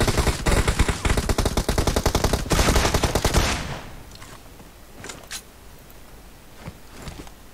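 Video game gunfire: rapid automatic bursts crackling loud and close for several seconds, then scattered single shots and mechanical clicks in quieter surroundings.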